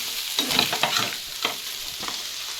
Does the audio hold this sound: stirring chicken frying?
yes